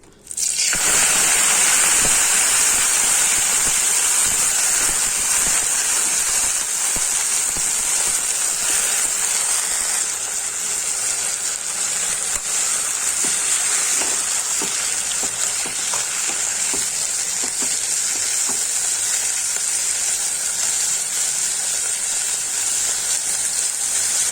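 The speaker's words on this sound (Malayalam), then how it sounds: "വെളിച്ചെണ്ണ ചൂടായേ നമുക്കിതിലേക്ക് തുകൻ്റെ ഇല ഇട്ട് കൊടുക്കാം" Nettle leaves dropped into hot coconut oil in a pan fry with a loud, steady sizzle and hiss, bursting up at once and then continuing evenly and close throughout, with no talking.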